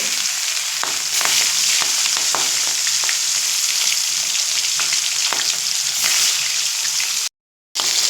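Rohu fish pieces rubbed with salt and turmeric fry in hot oil, giving a loud, steady crackling sizzle with scattered pops and spatters, broken by a short silent gap near the end.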